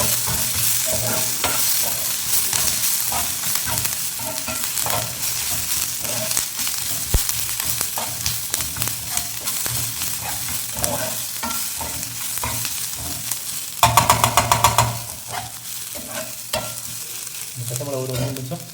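Green chillies fry in hot oil in a pan while being stirred, producing a steady close sizzle broken by scraping and clinking from the spoon, with a louder burst of crackle toward the end.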